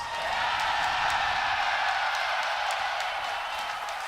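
Team Liquid fans cheer and applaud inside a packed esports arena at The International 2017, a dense, steady wash of crowd noise heard from a distance with no single voices standing out.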